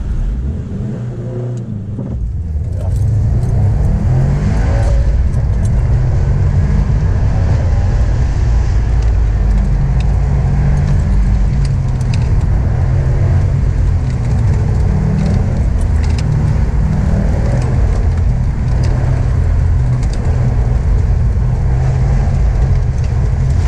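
A Subaru WRX STi runs an autocross course, its engine droning loudly and steadily from inside the car throughout with a low rumbling road and tire roar, and no talk.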